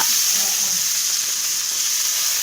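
Ground cumin and pepper stirred into hot oil for a country chicken soup, a dense continuous sizzle close to the pan with faint stirring beneath.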